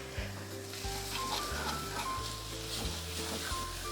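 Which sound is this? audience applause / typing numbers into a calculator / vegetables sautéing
vegetables sautéing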